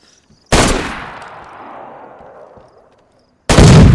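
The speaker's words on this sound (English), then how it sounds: "Automatic gunfire erupts from within." A loud burst of automatic gunfire in the video game DayZ with a long rumbling echo that fades away, then another sharp blast of shooting at the very end.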